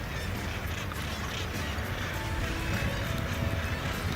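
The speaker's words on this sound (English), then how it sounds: "lots of seagulls too" Many seabirds call at once in a busy colony of murres, kittiwakes and seagulls at Cape St Mary's, a continuous din of squawks and cries mixed with wind and a few faint voices.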